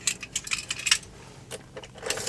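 Car keys jangle in short metallic bursts as a key goes into a car's ignition, with brief clinks and a pause before a final rattle, close and fairly quiet.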